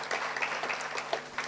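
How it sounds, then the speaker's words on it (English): An audience claps for a speaker at a formal address, a brief burst of steady, moderately loud applause from many hands. "Please clap for Africans"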